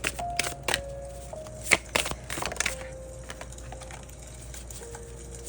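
Tarot cards being shuffled and drawn, close and crisp: a run of sharp riffling snaps and slaps at the start, then softer sliding and flicking of cards.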